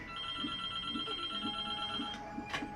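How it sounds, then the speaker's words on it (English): A mobile phone ringtone chirps in a steady repeating pattern of short tones over a constant tonal hum from a game, with no speech. "That is my phone ringing."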